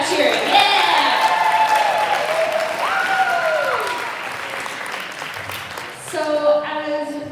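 Audience at a fine arts retreat celebrating America's 250th birthday, with loud sustained applause and cheering near and steady, a few voices whooping over it before it fades and then swells briefly again.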